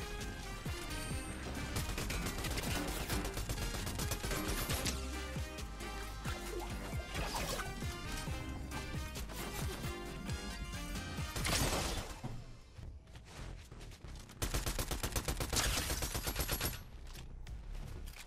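Lock-on pistol fire in Fortnite, with rapid repeated shots and impact crashes amid dense game sounds that run loud and continuous, with short dips between volleys.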